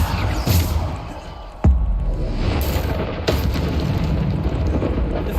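A Bombarda explosion spell goes off in the video game Hogwarts Legacy, a single sharp, loud boom partway through, surrounded by continuous rumbling combat noise.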